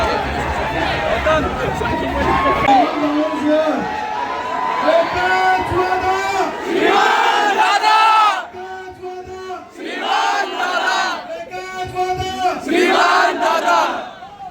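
A crowd at a hero event in Pune cheers and shouts in repeated loud surges, bursts of massed yelling separated by brief lulls, close and overwhelming.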